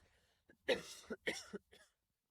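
Three sharp coughs in close succession, near and fairly loud, with a softer fourth trailing off, then silence.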